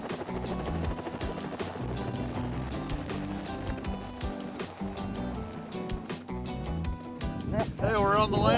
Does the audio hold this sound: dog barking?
no